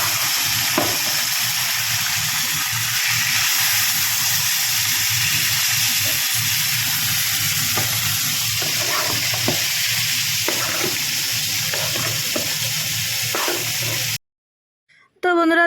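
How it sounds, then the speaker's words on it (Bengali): Fish frying in a small wok in a home kitchen gives a steady, loud sizzle and hiss, with occasional scrapes and clinks of stirring, before cutting off abruptly near the end. "ভালো করে মাছগুলো ছোটো কড়াটাতে আমি আগে মাছটা ভেজে নিচ্ছি।"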